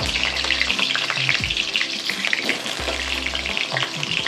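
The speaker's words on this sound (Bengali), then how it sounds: "পটল কাটা ভেজে নেব।" Sliced pointed gourd (potol) fries in hot oil in a home kitchen pan, a close continuous sizzle and crackle with intermittent stirring scrapes and a low hum, no voices.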